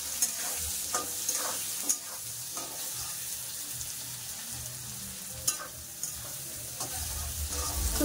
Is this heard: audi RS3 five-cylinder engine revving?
no